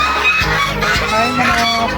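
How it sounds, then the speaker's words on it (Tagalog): Chickens cluck loudly and close by in a dense, overlapping chorus of short calls throughout. "Chicken."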